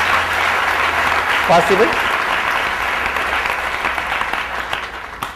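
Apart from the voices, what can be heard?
audience clapping, applause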